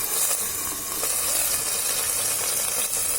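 Koi fish paturi frying in a covered pan, giving a steady close sizzle and hiss with faint crackles and no voices.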